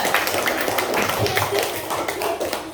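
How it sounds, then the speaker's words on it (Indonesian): A classroom group gets a round of applause, many hands clapping in a dense, brisk patter that carries on steadily for a few seconds before thinning slightly. "tepuk tangan untuk kelompok 3"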